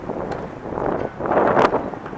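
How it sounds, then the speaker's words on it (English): Steady wind buffeting a microphone, a continuous roaring rumble that swells louder toward the end, with no voices. "it really is windy"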